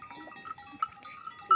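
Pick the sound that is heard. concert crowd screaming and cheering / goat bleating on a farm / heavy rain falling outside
goat bleating on a farm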